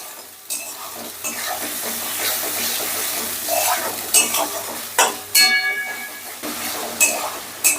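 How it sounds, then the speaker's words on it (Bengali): Ginger and chopped tomatoes sautéing in a pan: a bright crackling sizzle with loud scraping stir strokes and metallic clinks coming in bursts, close by, with no speech. "এবারে আদা আর টমেটোটাকে একটু কষিয়ে নেব"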